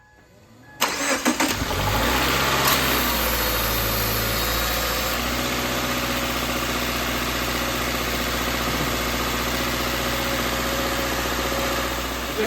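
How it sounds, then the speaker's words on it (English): A car starts up after a DIY oil change, a short crank catching into a steady mid-pitched idle with a constant engine hum and vibration that runs on alone. "you're gonna start your car, you're gonna let it run for a minute"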